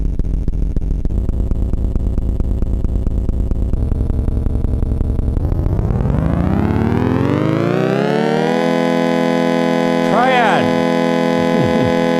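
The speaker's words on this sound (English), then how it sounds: "now the pulses that you're hearing are these pulses" Rapid synthesized pulses buzz steadily, then sweep upward in pitch into a higher continuous tone, with a few brief chirps near the end.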